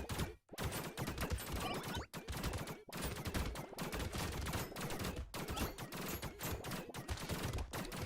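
Constant gunfire in Brotato, a loud, dense stream of rapid shots and impacts stacking nonstop, with only a few brief dips in the barrage.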